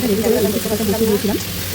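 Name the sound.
jackfruit seeds and potatoes frying in a pan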